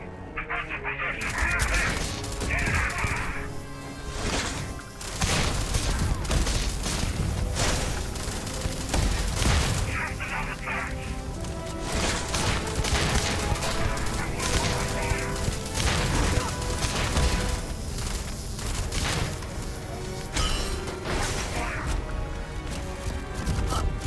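Sustained gunfire in Starfield, a steady barrage of rapid shots and blasts running the whole way through, loud and dense with scattered impacts and bursts layered over a constant combat din.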